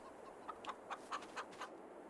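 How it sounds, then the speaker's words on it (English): Chickens in a coop in the Farming Simulator 22 video game cluck in a steady string of short, bright calls, about six evenly spaced clucks, quiet and alone. "We have 2 full chicken coops."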